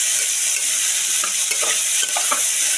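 Dalia khichuri is stir-fried with salt and turmeric in a pan, a loud, steady hiss of frying with scattered scraping stir strokes, heard up close with no voices.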